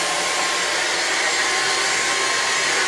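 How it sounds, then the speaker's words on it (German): A Dyson V6 Fluffy cordless vacuum cleaner runs steadily while vacuuming a floor, giving a loud, continuous motor whine and airflow hiss with no pauses. "Also wenn ich jetzt mal den Boden staubsauge ein bisschen,"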